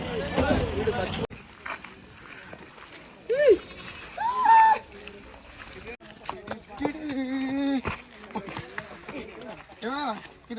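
A goat bleats a couple of times in short, wavering cries amid people talking loudly nearby, with outdoor noise in between.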